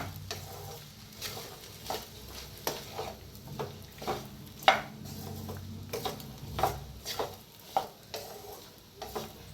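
Cooked rice is mixed with lemon and sugar in a vessel, a rhythmic series of soft scrapes and pats from a spoon repeating about every half second, close and fairly quiet, with no voices.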